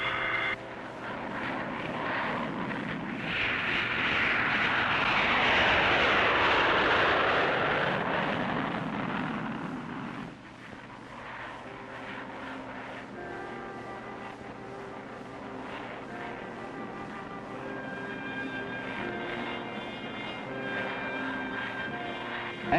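An Army field hospital unit's military aircraft takes off, its engine roar swelling loudly for several seconds, then easing into a steadier, fainter drone with tonal whine as it climbs away.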